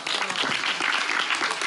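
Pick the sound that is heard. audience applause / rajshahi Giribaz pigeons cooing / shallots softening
audience applause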